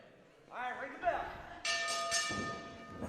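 A ring bell at a wrestling grappling event clangs once and sustains with a bright ringing tone, preceded by a brief voice and crowd noise in the hall, then the ring fades.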